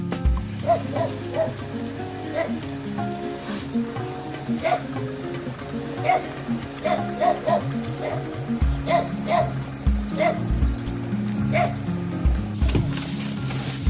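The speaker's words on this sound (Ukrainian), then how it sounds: "Це тут песики ходять." Dogs barking repeatedly outdoors, sharp yaps in irregular bursts over a constant crackling background, with brief voices now and then.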